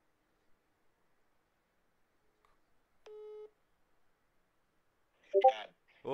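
After a dropped phone call, a short steady telephone tone sounds once from near silence, followed by a voice speaking briefly.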